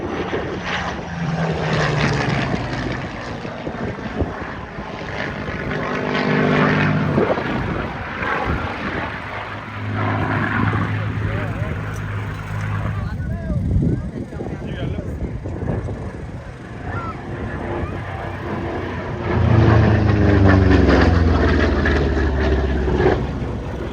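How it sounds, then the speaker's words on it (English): A Spitfire makes its final display pass at the Headcorn International Airshow, its propeller engine droning steadily throughout and swelling louder near the end, while a commentator talks over the crowd. "the Spitfire coming in for its last pass"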